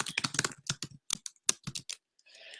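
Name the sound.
typing on a computer keyboard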